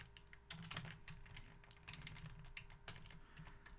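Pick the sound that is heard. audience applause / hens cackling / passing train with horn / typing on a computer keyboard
typing on a computer keyboard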